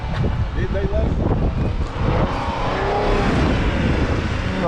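A used car engine idles steadily at an auto auction in El Reno, Oklahoma, a close, continuous running note with some wind, while people talk over it.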